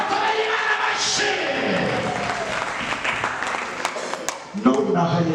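A church crowd bursts into loud, sustained applause for God during a Kinyarwanda service, with cheering and shouting voices mixed into the dense clapping.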